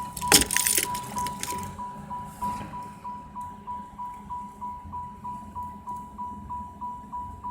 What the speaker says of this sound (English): I've got my keys. I'll hang them out the window if you want.